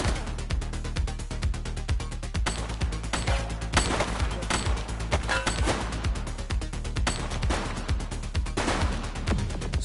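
Rapid gunfire from The Precinct on PS5 crackles in dense, overlapping bursts of shots and impacts, with busy game noise running throughout and a voice briefly heard.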